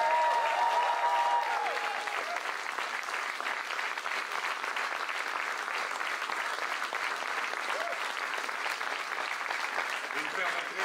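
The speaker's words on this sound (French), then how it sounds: "Et je pense qu'ils méritent une bonne main d'applaudissement." A large audience at a mayor's first speech applauds election candidates, a long, dense roll of clapping that stays loud and even throughout, with a faint voice heard briefly near the start.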